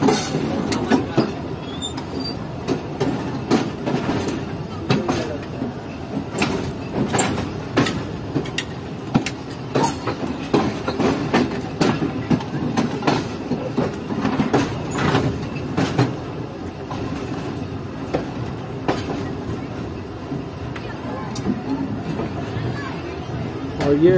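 Mohenjo Daro Express running onto Main Line 2 between Kotri and Rohri, a steady rumbling roll with repeated sharp clicks of wheels over rail joints and occasional squeals, heard close from on board, with faint talk underneath.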